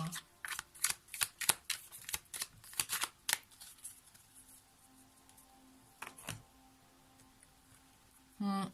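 Tarot cards being shuffled by hand in a rapid series of crisp riffling bursts, then slower, sparser flicks with a faint low hum beneath; no voices are heard.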